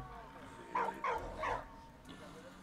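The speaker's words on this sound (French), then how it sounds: "C'est le chien qui derrière." A dog in the war video game Soldats Inconnus gives three quick barks in a row, then falls quiet, heard faintly over steady game background noise.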